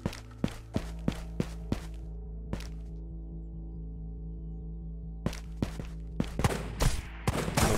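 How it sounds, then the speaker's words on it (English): Gunfire from an enemy in the VR shooter Ghosts of Tabor, a rapid series of sharp shots at the start, a lone crack in the middle, then a denser burst near the end, over a steady low hum. "He's shooting at me."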